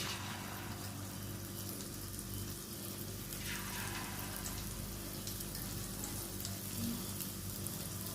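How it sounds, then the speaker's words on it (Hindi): Chicken Manchurian pieces frying in hot oil: a steady, faint bubbling sizzle heard up close and without a break, with a soft hum underneath. "हमारा ऑयल भी गर्म हो गया और मैं अब इसमें एक एक इस तरह से हम इसमें सारे पीस एक एक अलग अलग शामिल करते जाएंगे"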